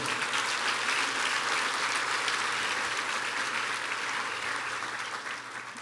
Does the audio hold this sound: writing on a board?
no